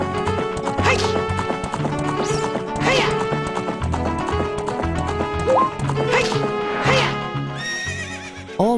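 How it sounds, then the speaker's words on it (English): A horse whinnies and hooves clip-clop at a gallop across Gerudo Valley in The Legend of Zelda: Ocarina of Time, over layered game music, with crashing hits scattered throughout. "Rode your horse across Gerudo Valley"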